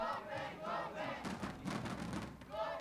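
A large esports arena crowd in Brazil chants and roars in waves at a League of Legends Americas Challengers match, with rhythmic swelling cheers and thumping, heard at a distance and fairly faint.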